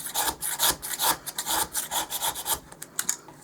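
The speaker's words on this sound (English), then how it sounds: "Just take a paint scraper," A paint scraper pushes hard across a cake board, scraping leftover residue off the smooth, shiny surface. Short, loud, rasping strokes follow one after another in a quick, steady rhythm, close up.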